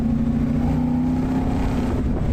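A Chevrolet Corvette C1 engine revs loud and close as its second carburettor opens, a steady throaty roar with a low growl that holds with no break.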